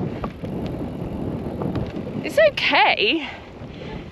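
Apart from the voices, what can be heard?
strong wind on microphone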